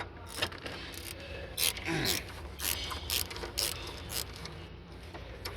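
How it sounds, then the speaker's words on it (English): A ratchet wrench loosening a 12 mm nut during brake booster removal, giving a series of quick, close clicking bursts that come in short irregular runs with faint handling noise between them. "let us loosen this nut right here"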